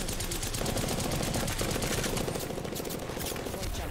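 Rapid bursts of automatic gunfire from an Apex Legends match crackle continuously and loudly at close range, dense and unbroken, with a few brief steady tones running through the volley.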